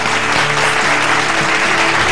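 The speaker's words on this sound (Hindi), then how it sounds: "जोरदार तालियों के साथ मैं उनका स्वागत करना चाहता हूं।" A studio audience on a business television show claps loudly to welcome a guest. The applause forms a thick, constant wash at close range.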